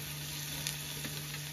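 Potatoes fry in hot oil in a pan with cumin and bay leaves, giving a steady, moderate crackling sizzle with a few small pops, heard alone.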